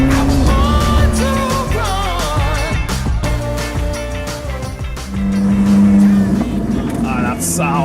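A Koenigsegg Jesko hypercar roars around a track with a loud engine that rises and falls through gear changes, partly mixed with music, and the tone sweeps up sharply near the end.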